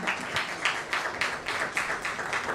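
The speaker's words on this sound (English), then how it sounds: "Round of applause for Ms. Chatterjee, everyone." Audience applause for a panel guest at a corporate communications conference, a steady wash of many hands clapping in rhythmic bursts, moderately loud and continuous with no voices over it.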